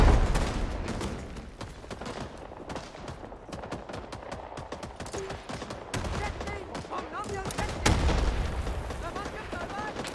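Gunfire from the Rising Storm 2 video game on the Hue City map, with dense rapid bursts of rifle and machine-gun shots cracking continuously, a heavier boom near the end, and faint voices underneath.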